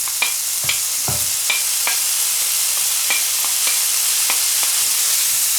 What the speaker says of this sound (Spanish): Lo primero que vamos a hacer es freír el bacon